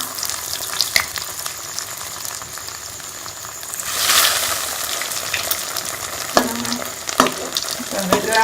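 Potato egg kebabs fry in hot oil with a steady close sizzle, punctuated by a surge of crackling midway and a few sharp clinks and scrapes near the end.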